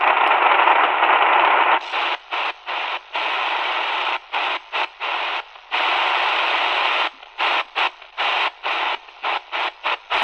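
Shortwave reception on a Prunus J-167 AM/FM shortwave radio at night, a loud band of static and hiss that keeps cutting in and out in choppy bursts as the dial is tuned, with no voices.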